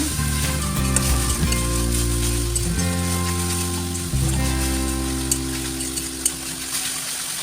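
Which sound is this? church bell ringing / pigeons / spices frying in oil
spices frying in oil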